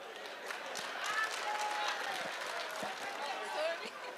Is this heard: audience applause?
yes